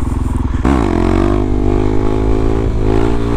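Suzuki Hayabusa motorcycle engine revving hard during a passing wheelie, a loud close buzzing roar that climbs sharply in pitch after an initial idle burble, then holds a steady high drone.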